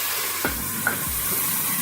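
Water poured into a pot of browned fried onions for a mutton pulao spits and hisses, with a couple of sharp bursts over a constant sizzle and no voices.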